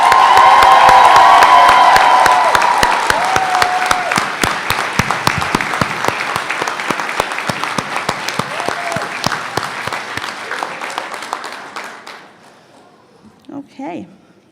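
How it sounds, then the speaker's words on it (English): A graduating class of 2018 at a practical nursing graduation ceremony gets loud applause and cheering, with whoops and voices over dense clapping that gradually thins out and stops near the end, followed by a few faint sounds. "So, a big hand of applause to the class of 2018"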